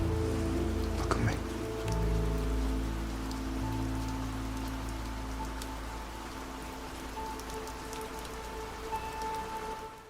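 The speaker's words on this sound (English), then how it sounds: "Now let me play the scene, but keeping the rain the same constant noise." Steady, constant rain hisses throughout a film scene from The Batman, with a faint low tone and a few soft thuds beneath it, and brief dialogue muffled within the downpour.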